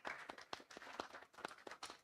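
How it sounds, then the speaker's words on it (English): Faint, sparse clapping from an audience at a student pitching competition, with quick, evenly spaced claps over a short stretch, quiet and somewhat distant. "Let's give them a round of applause."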